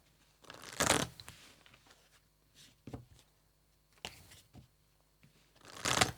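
A deck of tarot cards is shuffled in quick, papery riffles, with quieter slides and taps as cards are drawn between the bursts. The sounds are close and soft, and no one speaks.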